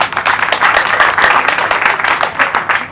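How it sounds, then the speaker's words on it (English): A crowd claps at an outdoor launch ceremony for a district headquarters construction, with dense, steady clapping that holds for the whole stretch and no talk over it. "Clap for these people."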